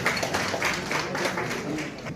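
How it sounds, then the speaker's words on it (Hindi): Audience clapping to welcome honorees at a ceremony, a steady moderate patter of many hands, somewhat distant and even throughout. "तालियों से स्वागत किया जाए।"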